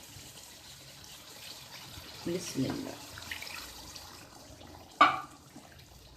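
Leftover meat stock (yakhni) and water poured into a pot of potato and meat curry, heard as a short, soft liquid pour over low background noise, with a brief word spoken.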